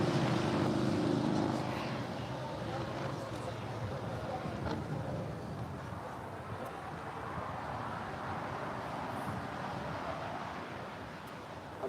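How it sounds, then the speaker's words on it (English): Turkish Airlines Boeing 777-300ER pushing back from the gates at LAX's Tom Bradley terminal, heard as a steady, moderately distant broadband jet rumble and hiss that holds level throughout, with a stronger low roar at the start. "It's a 777-300ER, now pushing back for the gates of Tom Bradley."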